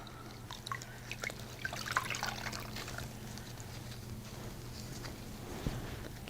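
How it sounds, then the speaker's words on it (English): Quiet dripping and trickling water as a washcloth is wet in a basin during a foot-care routine, soft splashes and drips close by with no talking. "I'll wet the washcloth."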